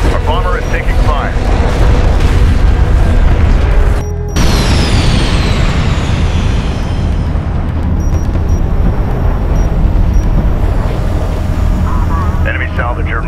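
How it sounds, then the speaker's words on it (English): Bomber and armored vehicles under fire in the game Homeworld: Deserts of Kharak, a loud continuous barrage of booming explosions and rumble, with a brief drop near four seconds before the din resumes. "Armored vehicle taking effective fire. Our bomber is taking fire."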